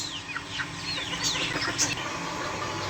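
Hens cluck and murmur nearby while thin chirps from other birds flit above, with steady background noise and no speech.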